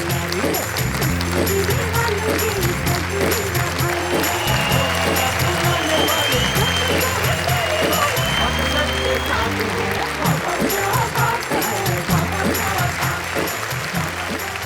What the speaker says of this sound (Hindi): जोरदार तालियां संगीता सरल